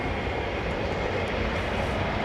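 ATR turboprop aircraft landing in a crosswind at London Heathrow Airport, a steady broad engine roar filling the air at moderate distance without a break, no talk over it.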